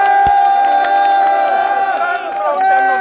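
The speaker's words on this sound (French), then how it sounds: "Applaudissez," A protest crowd in Brussels cheering loudly, with whoops and shouted voices layered over a continuous roar of many people close by.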